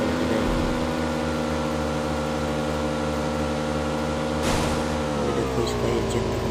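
A motorbike engine drones in the PUBG Mobile video game, a steady buzzing tone that shifts pitch near the end with a brief burst, while someone talks over it.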